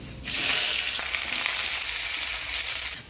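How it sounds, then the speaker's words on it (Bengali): Chopped onion dropped into hot oil with whole garam masala, dried red chilli, bay leaf and cumin, bursting into a loud, steady hiss of sizzling that fills the clip, close up in a village kitchen. "এবারে দিয়ে দিব পেঁয়াজ কুচি"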